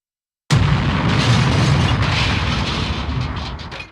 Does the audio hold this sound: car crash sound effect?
yes